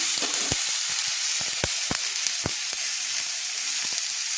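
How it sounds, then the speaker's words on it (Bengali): Long-cut potatoes stirred in a hot frying pan, a bright steady sizzle with a few sharp spatula taps and scrapes scattered through, close and alone. "দিয়ে নেড়ে নিচ্ছি ভালো করে নেড়ে নিচ্ছি"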